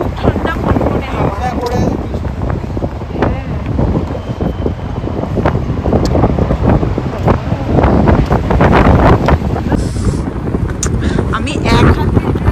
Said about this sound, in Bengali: মারাত্মক ঢেউ আছে, আর বাবা খুব ঠান্ডা কনকনে হাওয়া।